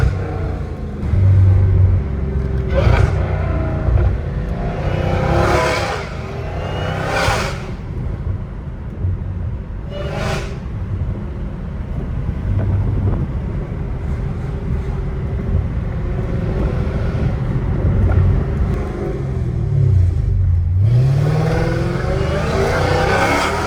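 797 hp Dodge Hellcat Redeye rumbling from inside the car, a deep steady engine growl punctuated by several sharp revving bursts, with one dipping and rising engine swell near the end.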